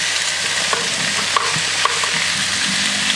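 Chicken skewers fry in a pan with a loud, steady sizzling hiss, close up, dotted with small pops and crackles and no talking.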